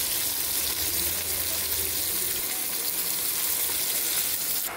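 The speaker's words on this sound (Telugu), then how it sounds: "ఇప్పుడు మ్యారినేట్ చేసుకున్న చికెన్ వేస్తున్నానండి" Marinated garlic chicken frying in a pan, a steady loud sizzle with hiss and crackle running evenly throughout, no talking.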